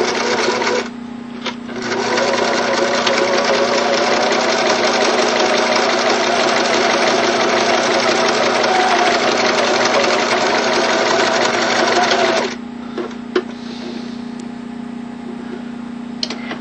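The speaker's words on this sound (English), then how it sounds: "you can put down a decorative line of stitching right on the outside" A sewing machine runs a decorative line of stitching along a folded hem, a loud, steady mechanical whir that starts after a brief pause and runs for about ten seconds before stopping, close to the listener with no talking.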